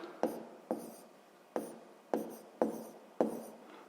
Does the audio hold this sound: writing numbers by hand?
yes